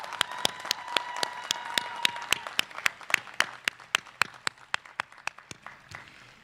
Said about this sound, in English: Please join me in a round of applause for our wonderful faculty